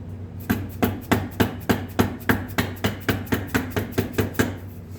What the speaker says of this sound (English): I use the rubber hammer whenever possible because you're less likely to tear stuff up